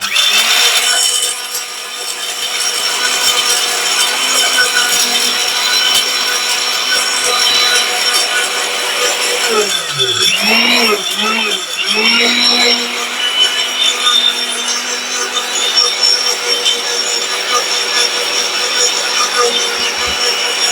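An electric mixer grinder runs steadily grinding shahi masala spice blend, a loud continuous whirring drone with a brief dip and wavering pitch partway through, alone without talk.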